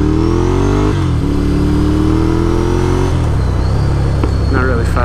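A Scrambler motorcycle fitted with a new, louder aftermarket exhaust revs loudly up close. The engine note rises and drops through several throttle blips over a steady, rumbling idle.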